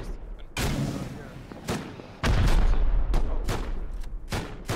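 Rockets and gunfire in the survival game Rust during a base raid: a series of heavy booming blasts and sharp shots, about eight separate loud bursts with decaying tails, one especially powerful explosion midway.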